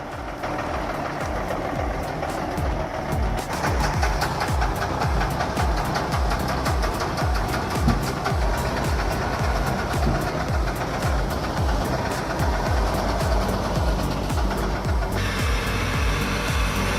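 The engine of a vintage Praga V3S timber transport truck runs in a steady, loud diesel chug with a knocking rhythm, continuous and close throughout, with no voices.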